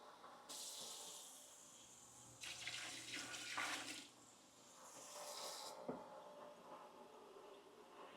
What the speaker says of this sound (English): I'll start adding water in there with that stock also